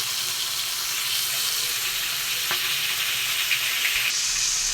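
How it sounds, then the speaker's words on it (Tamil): Fish pieces frying in hot oil for a home-cooked fish curry, a steady dense sizzle running throughout at close range with a brief tap near the middle, no voices. "இப்போப்பா இந்த மீனை பொரிச்சு எடுத்தாச்சு"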